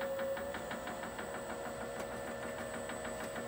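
A wood lathe turns at low speed in a woodshop, a steady mechanical hum with a faint regular ticking pulse running throughout, fairly quiet and with no voices.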